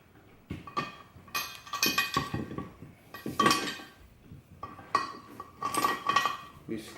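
A homemade valve keeper remover clinks and taps against metal while valves come out of a 4G63 cylinder head from a 98 Talon TSi AWD, with sharp, irregular metallic knocks separated by brief quiet gaps.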